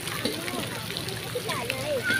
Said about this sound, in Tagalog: Oh, yung tilamsik ng tubig.